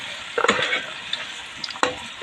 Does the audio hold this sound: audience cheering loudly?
no